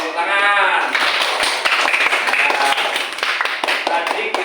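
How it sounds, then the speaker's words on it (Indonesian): After a brief voice, a classroom of children breaks into loose, ragged applause, many hands clapping close and unsynchronized for several seconds. "bawa tepuk tangan"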